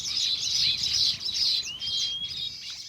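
Baya weaver birds at their hanging nests give dense, overlapping high chirps and twittering calls, with a continuous busy chatter from several birds at moderate distance and no other sounds.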